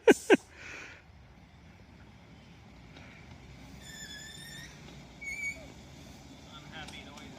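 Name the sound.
train brakes squealing in a video game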